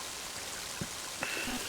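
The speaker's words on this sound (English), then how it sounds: "Mighty heavy rain, isn't it?" Heavy rain falls in the video game Mother 3 as a steady, even wash of noise, with a couple of faint game tones and clicks over it and no talking.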